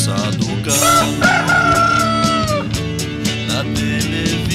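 Loud rooster crowing used as a sound effect in a Christmas parody song, a long drawn crow over steady music backing.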